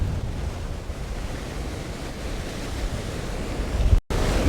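Ocean waves and steady wind on the rocky shore at Cape Banks, Sydney, during rock fishing: a continuous loud roar of surf with heavy wind buffeting the microphone and no talking.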